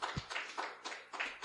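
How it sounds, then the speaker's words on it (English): An anime convention audience at Animinneapolis gives a brief burst of scattered clapping, several uneven claps rising and falling in quick succession, fairly soft and without voices. "Everyone, give her a round of applause, please."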